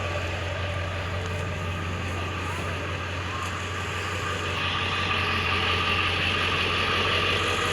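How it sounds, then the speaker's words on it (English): A Ford F-250/F-350 diesel pickup idles with its exhaust running, a steady low rumble and clatter held close and even throughout, with no speech over it. "The exhaust of the truck doesn't sound that bad. It's a diesel truck."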